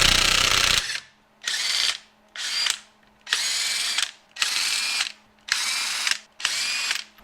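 Wheels are removed from a Cadillac CTS with a power ratchet: after a brief loud burst, seven evenly spaced whirring runs about half a second each, separated by short pauses, close and clear with no talking.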